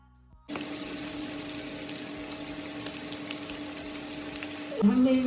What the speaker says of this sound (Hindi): इसी तरह सबको हमने फ्राई कर लेना है।